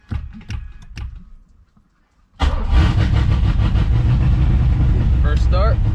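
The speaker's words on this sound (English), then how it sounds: "First start, starts right up." A Nissan 300ZX with a swapped LS1 V8 cranks briefly and fires up, then settles into a loud, steady, rumbling idle close by, with a faint voice underneath.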